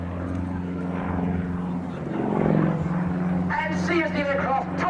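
A propeller aerobatic plane at the Woodchurch airshow drones and whines, its engine pitch surging as it flick-rolls and tumbles, heard at a distance beneath a commentator's voice.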